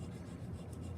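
A chisel with a micro bevel being honed on a sharpening stone makes a soft, continuous scraping rub, faint and close, lasting about a second without speech.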